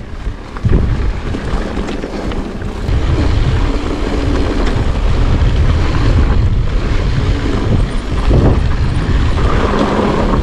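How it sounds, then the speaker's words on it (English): Strong, steady wind roars and buffets outdoors, a constant low rumble of gusts with no voices throughout. "It's getting pretty windy."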